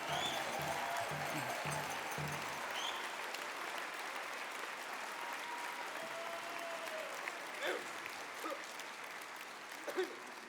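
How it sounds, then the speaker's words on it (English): Audience applause for dancers and singers at an Indigenous opening ceremony at a parliament gathering: a long, steady wash of crowd clapping from a large hall, fading slightly toward the end with a few scattered voices. "let's have a big round of applause again for all of our dancers, the great singers that are here tonight"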